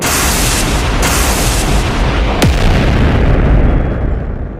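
A heavy, booming explosion effect for a lightning aura bursting from a spear tip roars loud and sustained, with a sharp crackling zap partway through before the rumble fades out.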